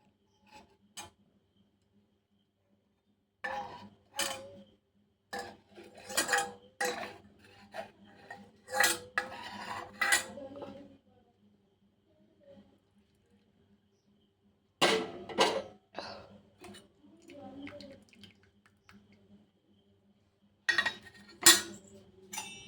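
A spoon clinks and scrapes inside a cup while stirring sugar to dissolve it, coming in short bursts of rapid taps with quiet pauses between them, close and fairly soft.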